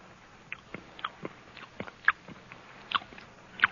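Spoon scraping and tapping in Mrs. Bingham's jar as Britt tastes, a sparse series of small crisp clicks and light crunchy bites, close and quiet with no talking.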